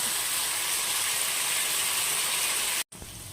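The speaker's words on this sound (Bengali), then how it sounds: "আমি অন্য আরেকটা কড়াইয়ে আলুটা ভেজে নিচ্ছি" Potatoes frying in a wok in a home kitchen give a steady, dense sizzling hiss that runs loud and unbroken, with a brief cutout near the end.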